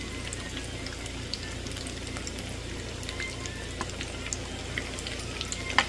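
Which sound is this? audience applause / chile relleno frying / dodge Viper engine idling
chile relleno frying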